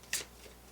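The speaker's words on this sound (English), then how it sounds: "We're going to shuffle this up a couple of times" Tarot cards being shuffled: one short, close riffle burst near the start, then a faint softer rustle in a quiet room.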